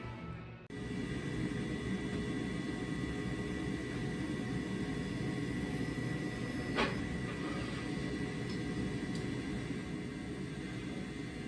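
A rolling mill runs steel bar stock for a Kopis blade, its steady loud mechanical drone starting abruptly and holding constant throughout, with no voices.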